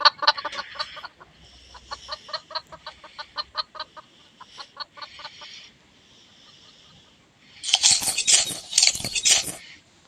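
A rapid series of sharp, repetitive clucks from chickens in the Roblox game, then a pause before a louder burst of squawking clucks near the end.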